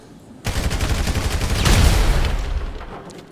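Objects explode in a rapid string of blasts inside the GTA 5 video game, loud and close, with the cracking bursts swelling toward the middle and then fading out.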